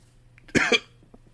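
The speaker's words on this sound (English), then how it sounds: "She coughed." A single close, sharp cough in two quick bursts, with a quiet pause before and after.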